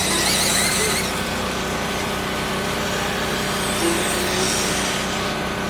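RC race cars scream down the front straightaway of an outdoor dirt track during a 12-car main event. The high-pitched electric whine is loud and steady, with several cars blending into one continuous sound.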